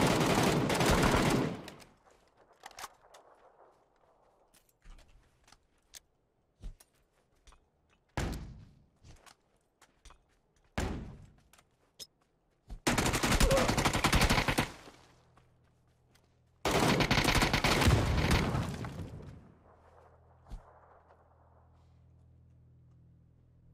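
Bursts of gunfire in the video game PUBG: a few loud, sustained volleys and scattered single sharp shots separated by quiet gaps, with no talking over them.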